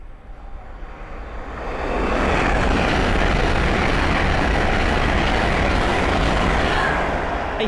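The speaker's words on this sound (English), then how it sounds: "the next train to pass by is a Hull train 800 from Leeds to London King's Cross" A Hull Trains Class 800 from Leeds to London King's Cross approaches on the East Coast Main Line at Sandy and passes close by, swelling after two seconds into a loud, sustained roar of wheels and rushing air.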